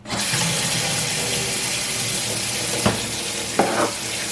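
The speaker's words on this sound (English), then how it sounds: "the first thing I want to do is wash my chicken." Tap water runs steadily into a sink as a whole chicken is rinsed, a continuous hiss with two brief splashes near the end and no talking.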